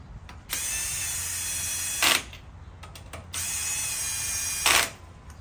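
A power tool spins lug nuts snug on a Toyota Tacoma wheel in two sustained close whirring runs, each ending in a short louder ratcheting burst, with a brief pause between them.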